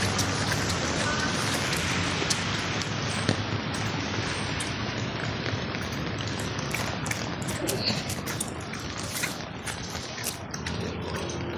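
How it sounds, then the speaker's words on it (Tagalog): Moderate rain pours over a flood-prone neighbourhood, a steady dense hiss of drops with scattered sharper taps on nearby surfaces, continuous and fairly close throughout, with no talking. "Hindi pa hindi pa masyado malakas ang ulan na to ha."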